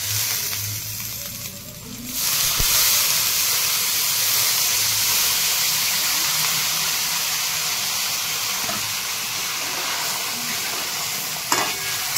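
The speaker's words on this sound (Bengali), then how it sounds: "এবার আমি জল দিয়ে দেবো।" Water poured into a hot pot of rice and mung dal for mung pulao sets off a loud, continuous sizzling hiss of steam that swells after a brief quieter start and holds steady, with no talking.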